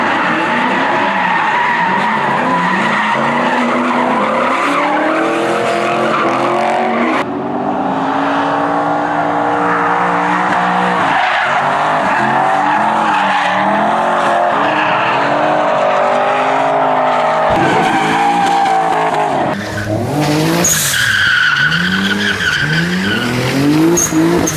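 Nissan 300ZX racing in a Need for Speed video game, engine revving through repeated rising gear sweeps with loud tire squeal and skidding, continuous and close throughout.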